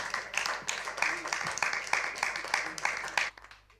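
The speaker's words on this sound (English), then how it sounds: "Give him a big round of applause." Audience applause following a talk, a steady patter of clapping that fills about three seconds and then cuts off abruptly, with a faint voice underneath.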